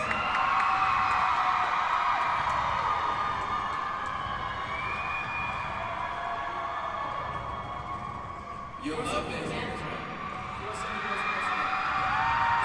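A large convention crowd at TwitchCon cheers and whoops for Team Bagheera Jones, a loud sustained roar filling the space, with an announcer talking over it and a brief burst of noise near the end.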